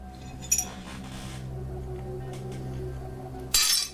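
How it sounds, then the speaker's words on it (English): Glass clinks in a film scene: a brief bright chink early on and a louder ringing clink near the end, set over a steady low hum. "Yep, that's glass."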